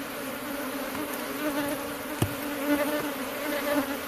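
Honey bees swarm around a Kenyan top bar hive, their steady close buzzing holding throughout with one sharp click partway through and no voices.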